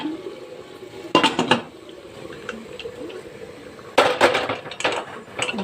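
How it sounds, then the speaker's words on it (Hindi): Boiled rajma is stirred into masala in a pot, with a few bursts of metal spoon scraping and clanking against the pot over a low background hum. "ये मसाला भी हमारा रेडी हो चुका है और हम इसको पूरा इसके अंदर मिक्स कर देंगे।"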